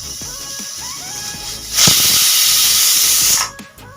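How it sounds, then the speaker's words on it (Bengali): A pressure cooker on a gas stove, cooking mutton curry with fried potatoes, gives a loud steady whistle and steam hiss of about two seconds, following lighter kitchen clatter and fading to quieter hiss. "দেখুন একটা সিটি আমাদের হয়ে গেল"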